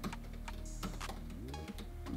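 Quiet typing on a computer keyboard in a home studio, a run of faint, quick key clicks at irregular spacing over a low hum with soft tonal beeps.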